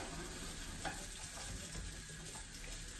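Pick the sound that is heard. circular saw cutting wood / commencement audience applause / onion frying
onion frying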